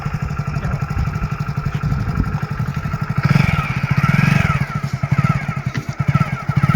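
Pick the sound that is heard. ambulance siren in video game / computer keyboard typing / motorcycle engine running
motorcycle engine running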